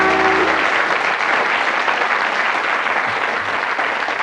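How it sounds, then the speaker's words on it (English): On a 1991 British TV quiz show, a studio audience applauds loudly and steadily for about four seconds, with a brief spoken word at the start. "Give him a round of applause."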